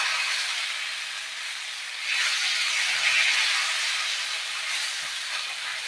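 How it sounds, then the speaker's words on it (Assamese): Pitha batter sizzling steadily on a hot oiled tawa, a continuous close hiss of frying that swells briefly partway through, with no talking. "এনেকৈ টাৱাখন গৰম হওঁতে মই পিঠাখন বহাই দিছোঁ"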